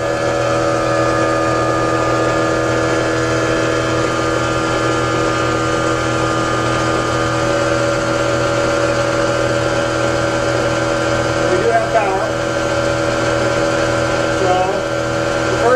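A 40kW generator engine runs steadily, a loud constant drone and hum that holds without change throughout.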